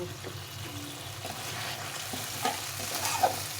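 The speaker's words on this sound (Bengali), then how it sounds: "যতক্ষণ তেল না থাকছে ততক্ষণ ভালো করে কষিয়ে নিতে হবে কাজু আর চারমগজটা কষানো হয়ে গেছে" Spice paste with cashews and melon seeds being stir-fried in oil, a steady close sizzle with irregular scraping strokes of a spoon against the pan and a couple of sharper clicks near the end.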